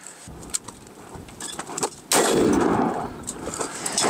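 A rifle fires outdoors at an aluminum plate target: one sharp, loud crack about midway through, followed by a sustained broadband roar and ringing that fades slowly.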